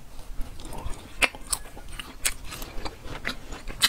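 Dried mango pieces are bitten and chewed close to the mouth, giving crisp, sharp bites at irregular intervals over a soft, moist chewing background, with no speech.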